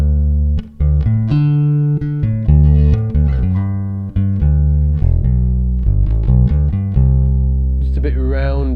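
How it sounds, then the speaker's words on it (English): Bass guitar played on the neck pickup alone for a mellower, rounder tone, a melodic line of sustained notes and slides that sounds close and prominent with no talking over it. "so I'm only using the neck pickup,"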